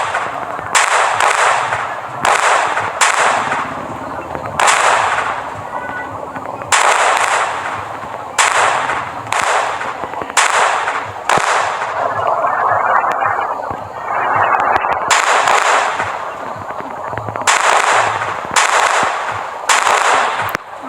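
Gunfire rattles in the Indian Bike Driving 3D game in loud, repeated bursts of rapid shots, separated by short gaps. The shooting goes on for about twenty seconds, with faint game ambience between the bursts.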